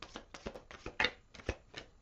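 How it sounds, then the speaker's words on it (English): Tarot cards being shuffled, a run of about eight crisp riffling bursts at a steady pace, close and fairly quiet, with one louder snap near the middle and no talking. "One more shuffle."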